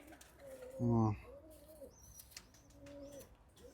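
Flying pigeons with short beaks, kept in a loft in Navoiy, give one loud, close, throaty coo, then softer cooing and faint chirps around it.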